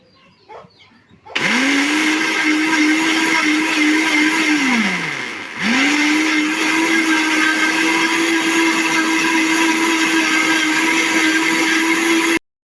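An electric blender churns a small amount of milk into butter for homemade ghee, a loud steady motor whine that briefly slows and dips before spinning back up and running on continuously.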